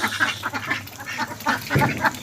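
Domestic ducks penned in on a farm quack in repeated short, nasal bursts, several birds calling over one another at close range with no talk.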